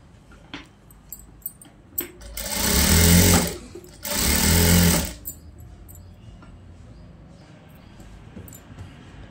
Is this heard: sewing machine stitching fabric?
yes